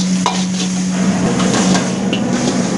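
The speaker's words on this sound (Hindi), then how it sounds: "मस्तपैकी फ्राय होतोय मित्रांनो लाईव्ह तुमच्या समोर।" Hong Kong fried rice with coriander and spring onion fries in a pan, a continuous close sizzle dotted with light clinks and scrapes of a utensil against the metal.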